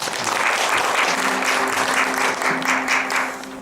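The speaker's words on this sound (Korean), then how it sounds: "큰 박수 한번 주시기 바랍니다" Brief burst of audience applause at a Korean keynote lecture on teaching and learning skills, dense clapping from a room full of people, steady and moderately loud, tapering slightly at the end.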